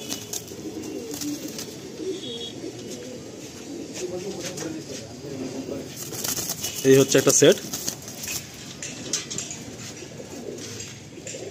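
Racing pigeons at a loft cooing softly and steadily, with a brief burst of wing flapping as a pair is let loose, while someone speaks briefly nearby.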